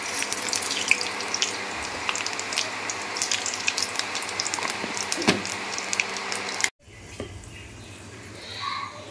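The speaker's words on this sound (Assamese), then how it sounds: "এয়া অলপ মই পাঁচফোৰণ দি ভাজিম" Steady sizzling crackle of vegetables frying in hot oil with panch phoron (five-spice seeds), close up, cutting off abruptly to a quieter hiss near the end.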